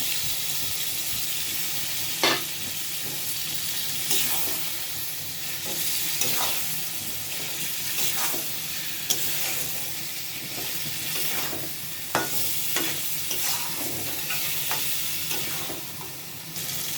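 Boiled, peeled beef tongue fries in a pan with bay leaf, cardamom and cinnamon, producing a constant close sizzle with occasional spoon scrapes spaced a few seconds apart.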